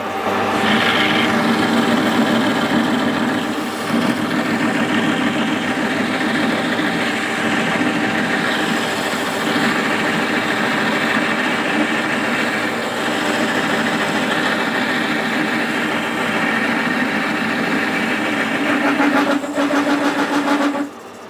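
A metal lathe runs steadily while cutting an 11 TPI imperial thread on a large welded and built-up part, a continuous loud mechanical hum and whine holding throughout without pause.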